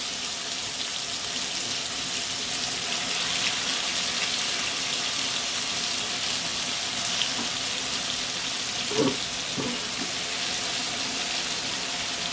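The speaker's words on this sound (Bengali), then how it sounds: "এইভাবে সব চিকেনগুলোকে আমি ভেজে তুলে নিয়ে" Chicken pieces frying in a pan for chicken chaap give a continuous, even, close sizzle that holds steady throughout, with a few faint knocks near the end and no talk.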